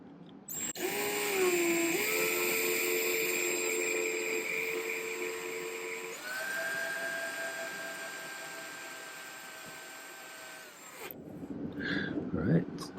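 A power drill whines steadily for about ten seconds drilling holes in silver discs for earrings, its pitch stepping up partway through, then cuts off, followed by a few clattering knocks.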